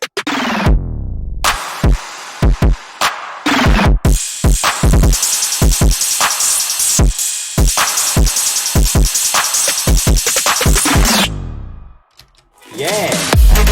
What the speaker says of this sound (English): So together with the cymbal, the hi-hat loop, it all sounds like this.